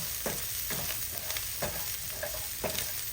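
Onions cooking in a pan make a constant close, bright sizzle, with soft spatula stirs scraping through it about once a second, and no voices.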